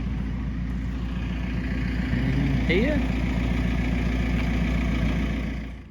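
A tractor hitched to a trailer idles on a farm, its low steady engine rumble running throughout with a brief voice over it.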